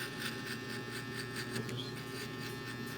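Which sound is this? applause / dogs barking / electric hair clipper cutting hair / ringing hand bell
electric hair clipper cutting hair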